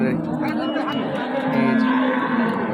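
A cow moos in a long, loud, drawn-out call close by at a cattle market, with faint crowd murmur in the background.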